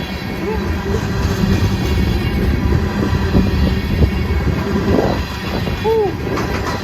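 Union Pacific grain freight train passing close by, a loud continuous rolling rumble with wheel clatter throughout, a short voice briefly audible over it near the end.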